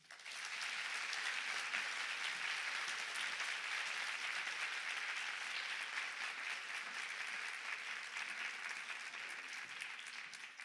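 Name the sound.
audience applause after a conference speech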